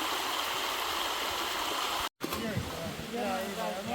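Flowing river water at a riverside cooking spot, a continuous close rush and gurgle. It cuts off for a split second, then continues more faintly, with people talking over it.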